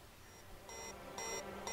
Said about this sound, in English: Where is my alarm is the question, because I should probably shut that off while I'm using the robots